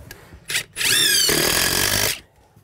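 A Ridgid brushless cordless drill spins up after a couple of short taps, whining loudly and steadily up close for over a second while working into a wall corner during an insulation job, then winds down.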